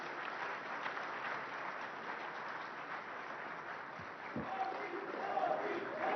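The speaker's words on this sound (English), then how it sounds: "please give a huge round of applause" A summit audience gives sustained, dense applause as Prime Minister Narendra Modi is welcomed at the News18 Rising Bharat Summit 2026, with an even wash of many hands clapping and a slight swell near the end.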